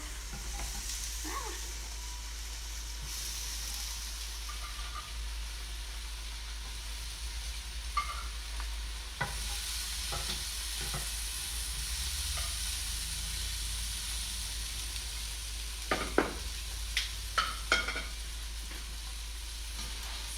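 Taco fillings sizzling on a grill, a steady hissing sizzle heard at moderate distance, with a low constant hum beneath and a few sharp clicks and taps of utensils near the end.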